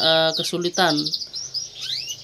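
A young canary sings a rapid run of trills and bright whistled notes, close and loud, then fading into softer twittering calls.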